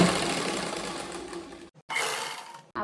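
A sewing machine stitches an elastic casing on fabric, a steady close whirring run that halts briefly, restarts for a short burst, then stops again, with no voices.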